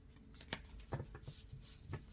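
Cards riffle and snap in a few quick shuffles up close, crisp flutters and taps in an uneven rhythm, quiet, with no voices.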